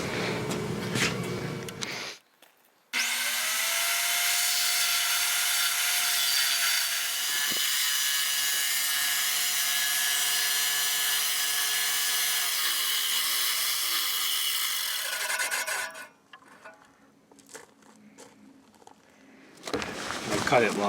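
A saw cuts plywood into strips in a workshop, running as one loud, sustained whine of about twelve seconds, with short bursts of cutting noise before and after it.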